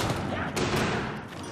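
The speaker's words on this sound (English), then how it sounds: "We shall take our pistols and we shall shoot them." Pistols fire in the Black Ops Zombies map Kino Der Toten, a dense burst of rapid, overlapping gunshots with a few sharper cracks mid-way, heard close under game noise and a background voice.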